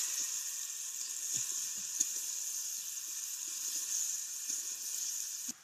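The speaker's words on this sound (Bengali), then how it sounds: "ডাল আমি হালকা করে ভেজে নিচ্ছি" Masoor dal lightly frying in a pan, giving a steady, soft sizzle with faint scattered ticks and pops underneath, continuous and close throughout.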